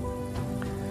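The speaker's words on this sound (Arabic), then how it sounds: "دي صوت رشاشات المايه اللي احنا سامعينها." Water sprays steadily in a continuous hiss from sprinklers on a Medjool date palm farm, showering drops nearby, with a constant low hum underneath and no voices.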